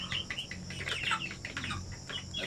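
Sampi native chickens cluck and chirp close by, a busy overlapping chatter of several birds at low volume with no talking.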